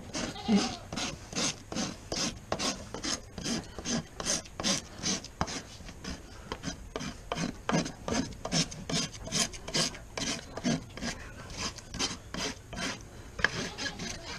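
A farrier rasps a horse's hoof with steady, rhythmic back-and-forth strokes, a close, loud gritty scraping repeated many times at an even pace.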